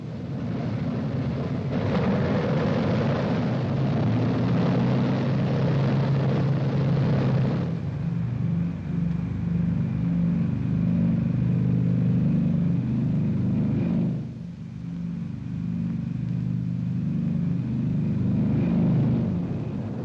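Piston engines of a B-29 Superfortress bomber drone in flight as a continuous heavy rumble, with the roar swelling and briefly dipping. No voices are heard.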